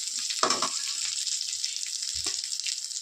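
Green chillies sputtering as they fry in hot oil, a steady close crackling sizzle throughout with a couple of brief louder pops.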